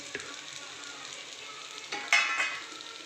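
Spiced green capsicum being mixed in a pan with turmeric, coriander powder and crushed peanuts: a quiet sizzle with occasional utensil scrapes, then a louder burst of frying and stirring near the end.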